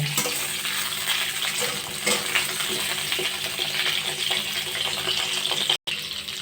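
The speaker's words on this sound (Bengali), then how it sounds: "গরম তেলের মধ্যে পটলগুলো দিয়ে দেবো গ্যাসের ফ্লেমটা মিডিয়ামে রেখে পটলগুলো চার মিনিট ভালো করে ভেজে নেব" Pointed gourd pieces frying in hot oil over a medium gas flame, giving a dense continuous sizzle with a few scrapes and clinks, up close and with no one talking.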